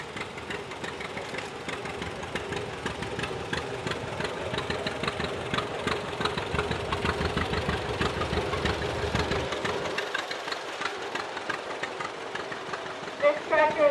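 A 1938 John Deere VR tractor engine idles during an antique machinery parade, a steady low rumble with a rhythmic knock, heard alongside crowd noise.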